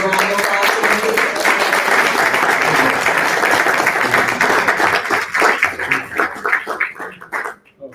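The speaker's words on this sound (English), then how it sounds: "Can we give a round of applause for him?" An audience claps in sustained applause at an event honoring Mark Morial, President of the National Urban League, at a March on Washington 60th anniversary celebration; dense, even clapping fills the hall, then thins out and fades near the end.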